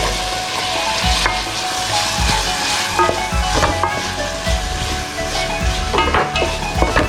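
Chopped medium onions frying in hot oil for prawn kabsa rice, a loud, steady close sizzle with occasional stirring scrapes and clinks of a utensil against the pan, no voices.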